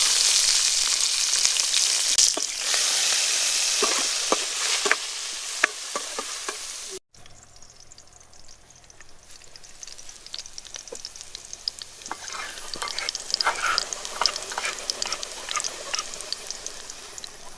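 Chili, chopped onion and garlic fry in hot oil in a pan, a steady loud sizzle with scraping stirs, briefly cut off and then returning as a softer crackling fry with frequent spatula taps.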